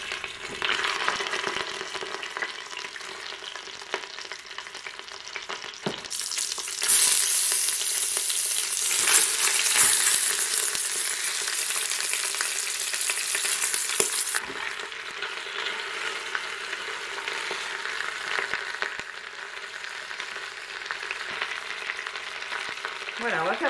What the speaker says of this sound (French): Voilà, on va faire revenir la viande.